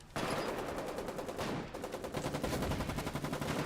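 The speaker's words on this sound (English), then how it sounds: "There's a chap over there with a big old machine gun." Video game machine gun fire on a front line, long loud bursts of rapid rhythmic shots with a brief pause before the firing resumes in a steady chatter.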